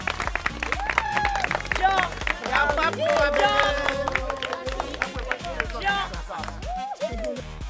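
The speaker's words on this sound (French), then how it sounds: "On peut applaudir pour elle." An audience applauds a contestant at a show finale, a steady wash of clapping and crowd noise running throughout beneath loud music.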